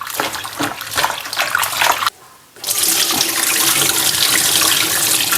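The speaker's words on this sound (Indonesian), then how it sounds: "Ini paling enggak dibilas hingga 3 kali ya lik ya, biar garamnya betul-betul hilang." Running water from a kitchen tap rinses salted chopped eggplant, a steady broadband splash close by with a brief pause partway through before the flow resumes.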